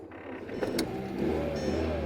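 A car engine catches and settles into a steady idle after being jump-started, a low continuous rumble close by with no speech over it.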